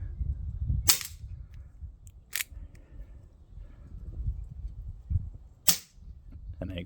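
An Umarex Colt SAA .177 CO2 pellet revolver fires about four sharp, loud single shots at irregular intervals, each a crisp crack over quiet background rumble.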